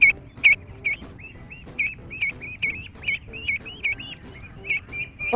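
A duckling peeps and cheeps over and over in quick, high chirps at a steady, busy pace, close and clear against a low rumbling background.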